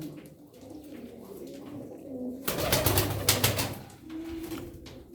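Silver pigeons cooing in their loft section, soft rolling coos near and low, broken midway by a burst of fluttering wings and scuffling before the cooing resumes.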